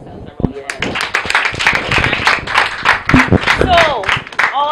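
Audience applause at a national champion selection event for the 2011 NCB Foundation, a dense wash of clapping lasting throughout with voices and cheering mixed in.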